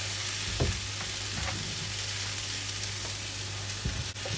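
Mushrooms sizzle and fry in a pan on gentle heat with toasted spices, a steady quiet crackle and hiss broken by a few soft knocks as they are stirred, with no voices.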